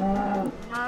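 A Minecraft cow lets out one loud, close moo, a low, drawn-out bellow heard on its own in the game.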